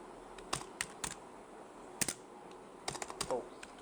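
Someone types on a computer keyboard in MS Word: a few scattered key clicks, then a quicker burst of close keystrokes over faint room hiss.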